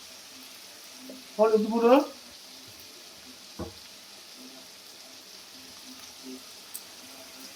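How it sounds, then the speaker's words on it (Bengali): Onions frying in a pan give a brief burst of sizzling and stirring, followed by a quieter background with a single clink. A voice speaks at the same time. "পেঁয়াজটাকে একটু ভালো করে ভেজে নিই"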